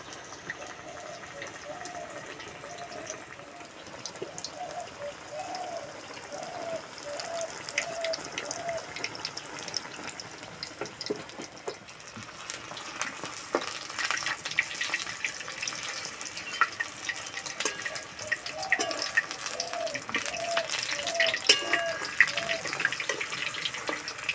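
Stuffed ash gourd chops fry in a pan of oil, giving a steady crackling sizzle that runs throughout and grows louder and busier in the second half, with no talking.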